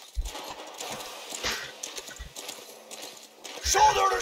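Horse hooves clatter in a few bursts with brief whinny-like sounds during a Mount & Blade II: Bannerlord battle, mixed with game noise and people talking.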